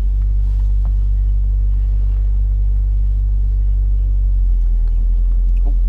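Heavy low engine rumble inside a car pulling away during a driving lesson, loud and steady, with a slight shift in pitch near the end.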